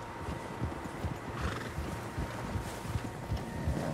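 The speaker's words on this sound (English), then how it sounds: "Horses, quite a few of them." Several horses in the Red Dead Redemption 2 video game, with close hoof clip-clops on the ground, snorts and a whinny over a steady outdoor ambience, and nobody speaking.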